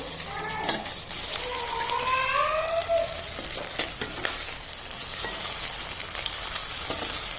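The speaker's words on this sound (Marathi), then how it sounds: "पलटी केल्यानंतर अशाच पद्धतीने चांगलं लालसर होईपर्यंत आपण तळून घेणार आहोत" Leftover-rice snack patties frying in a pan after being flipped, giving a steady, close sizzle with a few faint clinks. No one talks.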